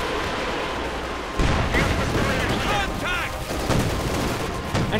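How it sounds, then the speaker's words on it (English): Katyusha rocket artillery firing point blank in the real-time strategy game Company of Heroes 2, a dense run of sharp bursts and whooshing launches over a continuous battle din, loud and close, with game voice callouts mixed in. "Katyusha firing point blank here."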